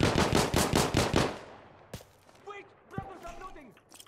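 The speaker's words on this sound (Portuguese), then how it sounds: "Eu já tô trocando tiro com os caras aqui." Gunfire in the shooter game Insurgency Sandstorm: a rapid automatic burst of about seven loud shots, then scattered single distant reports and quieter clatter, while a voice talks over the later part.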